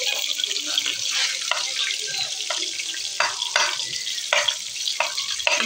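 Chopped onion tipped into hot oil for a mixed potato and carrot vegetable dish, giving a loud, steady sizzle and crackle with scattered stirring clicks, close up and continuous.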